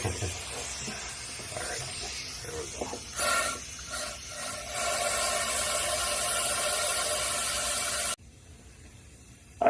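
Compressed air from a small air compressor holding about 75 psi blows through a towel-wrapped nozzle into a frozen windshield washer fluid line, a loud steady hiss that cuts off abruptly near the end.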